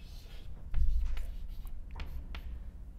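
A pen writes a formula on paper in short scratchy strokes, close and fairly faint, with a soft thump near the start.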